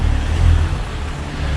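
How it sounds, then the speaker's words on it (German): A car drives close behind on a village road, a steady loud low engine and tyre rumble with broadband road noise throughout. "Wenn jetzt uns gerade ein Auto verfolgt."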